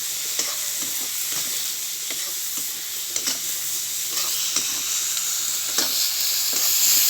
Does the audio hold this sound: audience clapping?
no